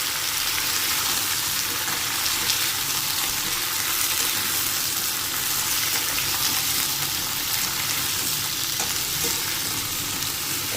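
Cut vegetables (potato, pumpkin, flat beans, eggplant, pointed gourd) frying with ginger and five-spice in a pan, a steady loud sizzle with scraping stir strokes running throughout, no voices.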